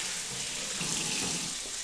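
Hot water runs from a kitchen tap as a steady, loud, even hiss for the whole stretch, with no voices.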